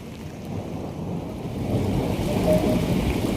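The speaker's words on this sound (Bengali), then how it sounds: "মুষলধারে বৃষ্টি চলছে, ক্যামেরায় হয়তো অতটা বোঝা যাচ্ছে না, কিন্তু বৃষ্টিটা প্রচুর মানে জোরে হচ্ছে।" A heavy night downpour in Rajasthan, heard from a balcony as a dense, steady roar of rain with a low rumbling undertone, growing slightly louder and with no one speaking.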